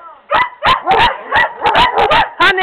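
A dog barks repeatedly and loudly up close, about eight sharp barks in an uneven, rapid series with no talking.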